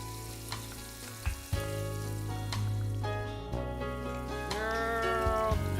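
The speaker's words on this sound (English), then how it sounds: "We're going to saute some onions until they're translucent." Onions and garlic sauté in a pan with a continuous close sizzle and crackle, plus brief stirring knocks and scrapes. There is no talking.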